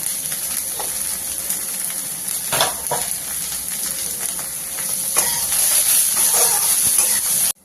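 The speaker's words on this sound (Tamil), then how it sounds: "கோஸை நல்லா வதக்கிக்கலாம். மஞ்சப்பொடி 1 ஸ்பூன் போட்டுக்கிறேன்." Shredded cabbage with turmeric sizzles and fries steadily in a hot pan, a loud continuous crackle with scraping stirs of a spoon mixed in, growing slightly louder toward the end.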